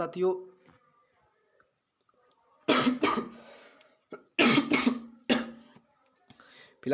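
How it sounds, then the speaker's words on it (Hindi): A few sharp coughs in quick succession after a brief bit of speech and a quiet pause, close and clear. "बताते बताते मुझे खांसी आने लगी।"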